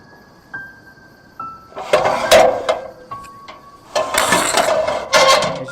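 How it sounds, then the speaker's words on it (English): Extension ladder fly section being raised by its pulley and rope, giving a series of clicks, rattles and metallic clacks as the rung locks catch, coming in short uneven bursts close by. "we're going to use the pulley"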